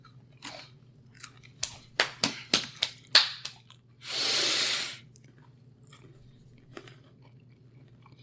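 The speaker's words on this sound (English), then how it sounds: "I'm still chewing." Someone chews food close to the microphone, a run of crunchy, wet bites in a steady rhythm, followed by a breathy hiss and a few softer chews in a quiet room.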